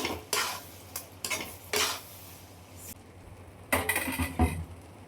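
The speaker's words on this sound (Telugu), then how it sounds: "ఇప్పుడు మనం రుబ్బుకున్న పేస్ట్ వేసుకోవాలి." Ground paste goes into a pan of non-vegetarian curry and is stirred in. A spoon knocks and scrapes against the metal in short irregular bursts, with a faint sizzle underneath.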